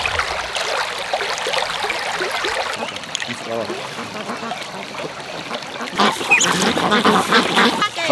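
Ducks quacking near a riverside spot, a run of nasal quacks at moderate distance over a background hiss, growing louder and busier toward the end.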